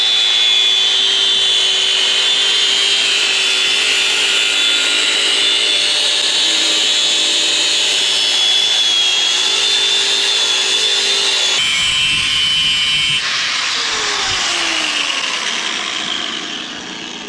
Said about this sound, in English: I'm gonna get my cutter and I'm gonna come and I'm gonna try and cut as much of that off as possible